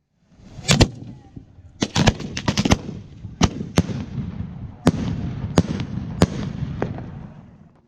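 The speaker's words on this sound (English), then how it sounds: "a reloadable signaling device that sets off a primer when you pull out the firing pin" A reloadable tripwire signaling device fires primers in a rapid string of sharp cracking pops, a dozen or so close, loud reports at irregular intervals over a crackling background.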